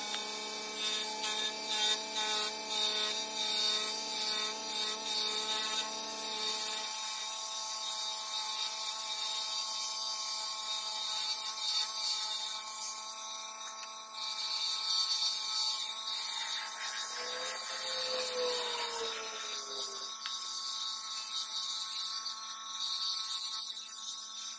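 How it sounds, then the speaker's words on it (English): Curly koa wood pen blank spinning on a lathe at full speed, a steady high whine with tool scraping in light, gentle passes; a shift in tone partway through as the cut changes, no talking. "So I'm going to go ahead and get this turned. I'm going to take it nice and slow."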